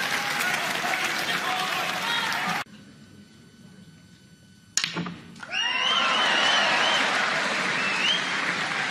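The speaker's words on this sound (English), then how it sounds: "The round of applause will tell you how much it's been missed." Applause from an audience at a snooker exhibition comes in two bursts split by a quiet gap and a sharp knock. The second burst is loud and sustained, with whistles and cheers riding over it.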